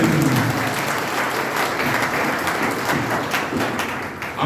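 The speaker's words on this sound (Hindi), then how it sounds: "हम सब भारतीय जनता पार्टी के जिला अध्यक्ष आदरणीय पवन जी मोदी का जोरदार तालियों से स्वागत करें।" A crowd at a district backward-classes conference in Laxmangarh, Sikar, gives loud, sustained applause to welcome the BJP district president, a dense, even roar of clapping that dips slightly near the end.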